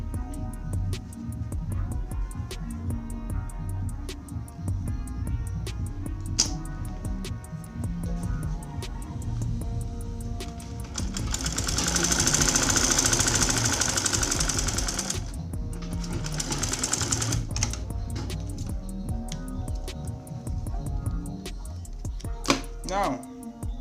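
A sewing machine stitches a placket onto fabric for a senator top, giving a close, rapid mechanical chatter in bursts. Short pauses separate the bursts, and one louder run comes midway.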